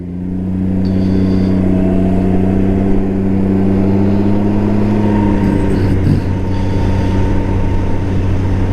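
A 2022 Can-Am Ryker 900 three-wheeled motorcycle cruises a backroad with its engine holding a loud, steady droning hum and only slight pitch shifts, plus wind rush and no voices.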